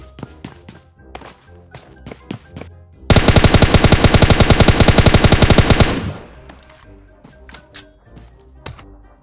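Gunfire in PUBG Mobile Lite, with scattered single shots followed by a loud rapid automatic burst of about three seconds, then more spaced single shots, close and sharp, with no talk.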